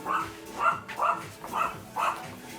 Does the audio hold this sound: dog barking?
yes